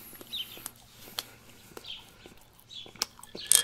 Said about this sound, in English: Hey, the birds